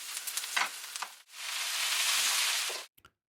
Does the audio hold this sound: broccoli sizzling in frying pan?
yes